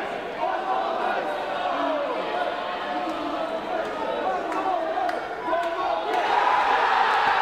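A dense crowd roars and shouts throughout a Kiwipong tournament final, with excited cheering that swells toward the end and a few sharp knocks mixed in.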